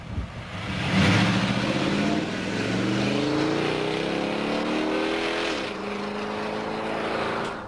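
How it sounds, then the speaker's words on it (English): A Ford Lincoln car with an AODE transmission accelerates firmly, engine pitch climbing steadily then dropping at a crisp upshift near the end before rising again, loud and close throughout with no talk. "Now, try some upshifts at 3/4 throttle to feel the new firmness."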